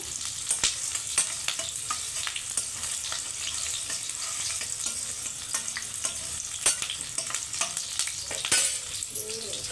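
Onions frying in oil for gongura chicken gravy make a continuous crackling sizzle, with frequent sharp scrapes and taps from stirring, close and steady throughout, with no voices.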